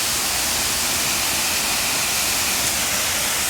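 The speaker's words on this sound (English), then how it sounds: "That looks like the biggest waterfall in Germany." The Josefsthal waterfall in Germany, a large mountain waterfall, roars as a loud, steady, broadband rush of falling water that fills the whole moment without pause or voices.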